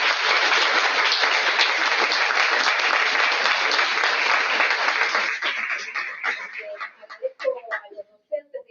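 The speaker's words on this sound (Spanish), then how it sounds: "Un aplauso para ellos." Sustained audience applause at a book presentation, dense and steady for about five seconds before thinning into scattered claps, with voices briefly audible as it fades.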